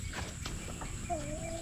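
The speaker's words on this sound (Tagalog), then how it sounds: "Ay manok." A chicken gives a brief rising-and-falling cluck near the end, faint against a low background hum with a few soft thumps before it.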